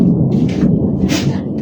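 Thunder rolls as a loud, continuous low rumble through the whole stretch, with a few brief hissy flares on top.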